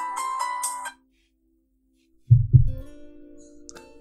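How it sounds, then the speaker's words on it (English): A phone ringtone chimes briefly for an incoming call, a short melodic burst that cuts off, followed after silence by low thumps and a sustained tone. "getting a phone call"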